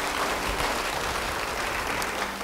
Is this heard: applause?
yes